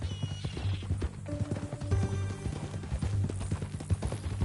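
Repeated hoof clip-clops with a horse neighing over a busy layered backdrop in the video game Red Dead Redemption II, steady rhythmic beats running throughout.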